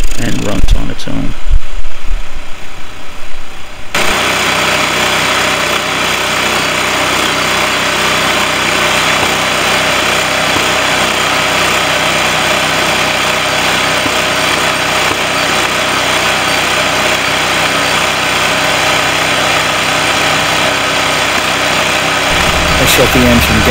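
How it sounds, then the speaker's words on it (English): A Genkins 4500 gas-powered portable generator runs steadily after a pull start, its small engine holding a loud, even drone close by with a constant buzzing hum for over twenty seconds, following a brief rougher moment as it catches. "After two tugs, the engine does start to kick over, and then it starts to draw its own gasoline and runs on its own."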